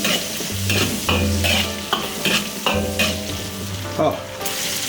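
Dried chilies and Sichuan peppercorns fry with cured pork in hot oil, making a loud, close sizzle with repeated stirring scrapes over faint background music.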